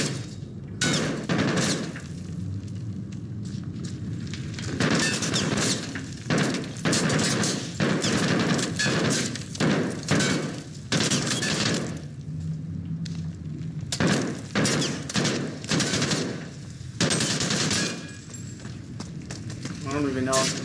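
Rapid bursts of gunfire from the video game Call of Duty Modern Warfare, playing the Wolf's Den mission on Veteran difficulty, with loud repeated shots and explosions under frequent player talk.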